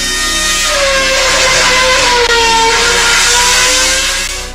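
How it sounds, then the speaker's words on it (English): A high-revving racing engine screams at very high RPM, a loud, sustained mechanical whine with pitch sweeping up and down, close and alone without speech. "the other way to get more power is to spin the engine higher,"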